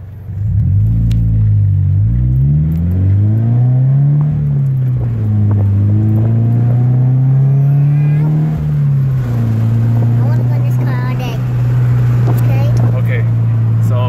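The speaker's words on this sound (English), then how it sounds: "So this is how the exhaust sounds when we're going." Scion FR-S exhaust heard from inside the cabin while driving: a loud, steady low drone that rises and falls with throttle, holding close and continuous throughout.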